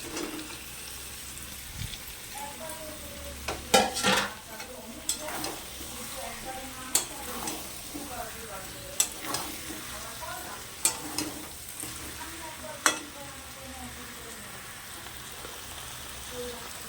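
Boiled eggs fry in a spiced onion masala in a pan for a Bengali egg curry, giving a steady soft sizzle with frequent sharp scraping clicks of a spatula against the pan, close and moderately loud, with no talk.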